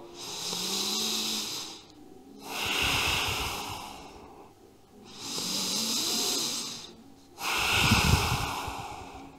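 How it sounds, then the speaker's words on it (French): Slow yoga breathing, with long audible inhales and exhales alternating in an even rhythm, close and fairly loud with throaty airflow and no talking. "On inspire, on expire."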